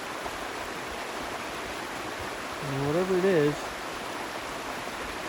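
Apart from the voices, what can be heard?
river flowing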